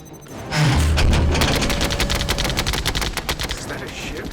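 A Phalanx close-in weapon system on a warship fires in a sci-fi naval battle film, a loud rapid burst of gunfire that starts abruptly and rattles on with a booming low rumble.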